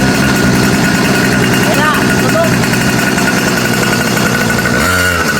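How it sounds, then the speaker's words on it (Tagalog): A newly bought motorcycle's engine runs loud and steady after a pull start, a continuous close rumbling chug that ends abruptly. "excited na nga ako sa tunog ng motor na nabili natin"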